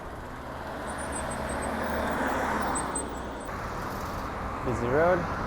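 Steady road traffic on a busy city street in Japan, heard from a bicycle, with a continuous broad wash of passing vehicles and wind throughout and a brief higher squeal near the end.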